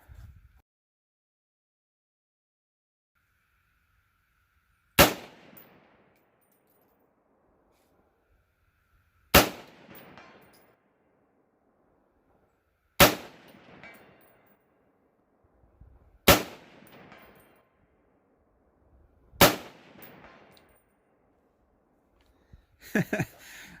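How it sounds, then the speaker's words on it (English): Five loud, sharp 7.62x39 rifle shots ring out across an open range, spaced a few seconds apart, each trailing a brief echo as rounds are fired at a steel gong 200 yards away, with a faint clatter at the end. "take some shots at that gong out there at 200 yards"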